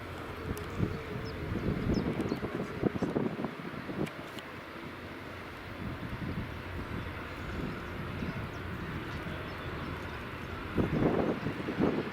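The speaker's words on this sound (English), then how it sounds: "And the Dornier is now taxiing." A Dornier aircraft taxis toward runway 24 at Edinburgh Airport, a steady distant engine rumble blended with wind noise over the microphone.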